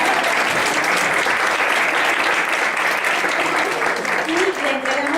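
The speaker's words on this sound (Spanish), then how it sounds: "Le damos un fuerte aplauso" A lecture audience at a university event on cannabis-derived medicines breaks into strong, sustained applause. Dense, continuous clapping fills the whole stretch, with a few voices mixed in.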